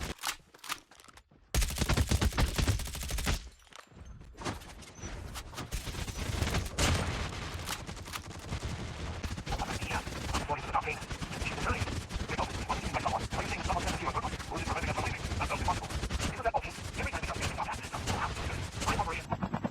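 Rapid gunfire from custom weapons in the COD Mobile video game, sustained bursts and crackling shots running almost continuously over game effects, loud and dense after a brief quieter opening.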